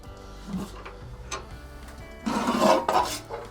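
A steel ash drawer on a small cast-iron Fireway stove being pulled open, with scraping, metallic rasps and clunks building to a louder grinding slide near the end, close by and with no talk.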